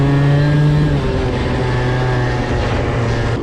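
A Honda Elite 50cc scooter revs hard while being ridden. The engine drone is loud and close, its pitch shifting through throttle changes, with a constant rush of wind noise.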